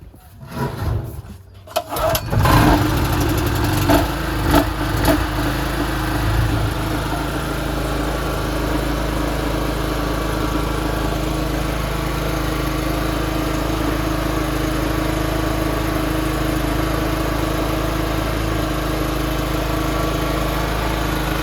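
A Power Value ZH4500 petrol generator cranks with a few rattling pulls, catches and then runs steadily at a loud, even drone close by, with no talking over it.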